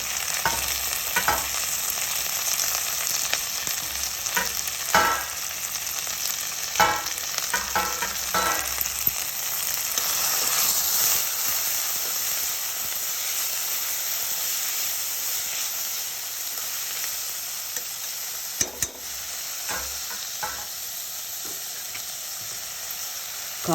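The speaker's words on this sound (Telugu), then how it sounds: "ఉల్లిపాయలు వేసి ఉల్లిపాయలు బ్రౌన్గా వేగాక క్యాప్సికమ్ ముక్కలు, టమాటా ముక్కలు వేసేయాలండి." Onion, capsicum and tomato pieces sizzle steadily in a pan for pulao, a constant hissing fry broken by irregular scraping stirs and a few louder clatters. The sound is close and continuous, with no one speaking.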